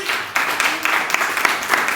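A church congregation applauds for their king during a sermon, a dense, steady wash of clapping from many hands that fills the whole short stretch at close range.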